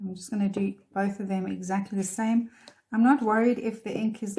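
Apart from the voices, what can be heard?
No distinct noise like a dog, phone or traffic.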